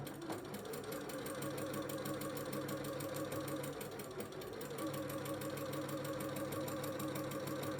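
A sewing machine quilting with a walking foot runs steadily and close, a continuous even whirring hum with a fast regular needle rhythm and a brief dip midway.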